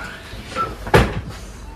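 A single clunk of a business-class train seat on the Baturraden Ekspress being swung around to face the other way, with a brief rattle before and after, heard close by.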